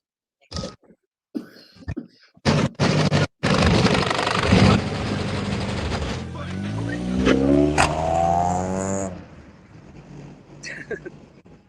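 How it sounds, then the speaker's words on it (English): A loud car roars past close by, its engine rising then fading away after a few short coughs and brief noises. "Loud car."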